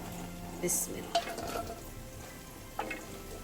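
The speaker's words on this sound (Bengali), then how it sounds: "এখন এতে আমি শাকগুলো দিয়ে দিচ্ছি" Leafy greens frying in a hot wok (kadai), a steady sizzle with a few sharp clinks and stirring scrapes near the start and end, heard close with no talking.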